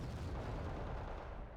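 Mortar fire in the Wargame: Red Dragon video game, a dense, continuous rumble of distant explosions and booms with no distinct separate blasts.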